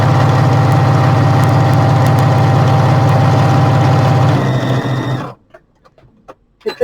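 Embroidery machine stitching quilt fabric, a loud, steady rapid needle rhythm with motor hum for about five seconds, then stopping abruptly and leaving near silence with a few faint clicks.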